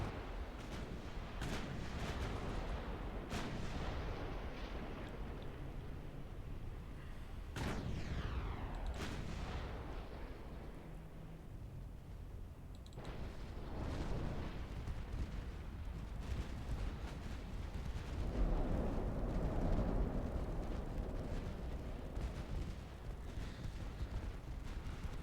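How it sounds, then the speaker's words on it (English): Turret ammunition cooking off aboard a battleship in a naval battle game, a long string of deep rumbling booms and sharp cracking blasts, some close and heavy, others distant, over a constant low roar. "Cooked off turret."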